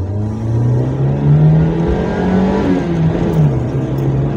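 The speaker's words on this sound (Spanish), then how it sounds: "¿Qué es lo que no hay que hacer? Meter acelerones duros." A car engine revving under hard acceleration, loud and close, with a steady low drone that climbs and dips in pitch across the run, no talking over it.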